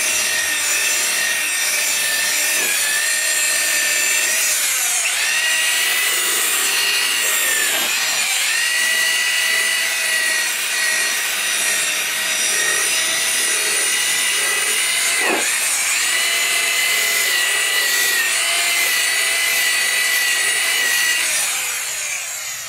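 Car paint polisher buffing old automotive paint, a continuous loud whirring drone with slight wavering pitch and a few brief scuffs, running the whole time without talk.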